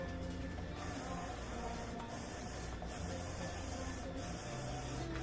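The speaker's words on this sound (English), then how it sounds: "Alright, so I'm going to spray my pan here." Cooking spray hisses into a baking pan in several close, short bursts separated by brief pauses, with a faint background hum.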